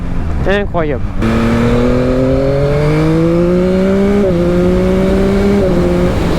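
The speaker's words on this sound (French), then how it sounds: "là je suis en seconde, petit shifter, là que ça passe tout seul, et à 4000, incroyable" Yamaha MT-09 SP 2022 motorcycle accelerating hard in second gear, engine note climbing steadily with quick clutchless quickshifter upshifts, loud and close, heard alone after a brief rising rev at the start.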